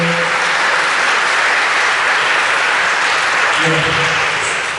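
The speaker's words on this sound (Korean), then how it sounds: "박수 보내주십시오." Steady, loud applause from an audience at a high school mentor appointment ceremony, dense and sustained throughout, with faint voices underneath.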